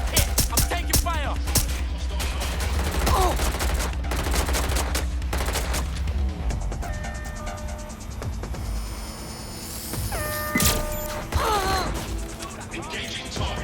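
Gunfire in Watch Dogs Legion rattles in loud bursts and single shots mixed with clanking mechanical effects and electronic tones, layered over a dense, busy game soundscape.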